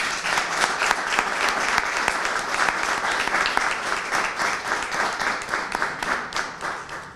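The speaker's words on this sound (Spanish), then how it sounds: "Pido para los dos un fortísimo aplauso." Strong, close applause from the audience at a book presentation of aphorisms, many hands clapping in a dense, steady patter that continues for several seconds and thins slightly toward the end.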